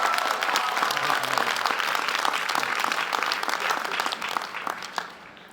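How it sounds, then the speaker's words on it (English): A commencement audience at the University of Mississippi gives one more round of applause. The clapping is dense and sustained, fading near the end. "How about one more round of applause?"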